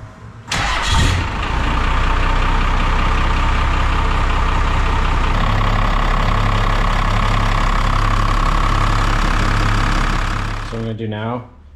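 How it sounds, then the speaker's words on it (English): A First Gen Cummins diesel truck engine cranks briefly, catches and settles into a loud, steady, rumbling idle close by. The idle shifts slightly in tone partway through before the engine shuts down near the end. "So let's flash up the truck and we'll check for leaks."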